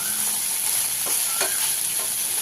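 Inch-long green bean pieces frying in oil in a pan, a dense loud sizzle with a couple of brief stirring scrapes, close up and without voices.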